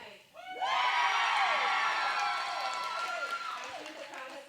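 Loud crowd at a live wrestling show cheering and shouting in a sustained swell that begins abruptly and stays high throughout, with whoops rising above the roar.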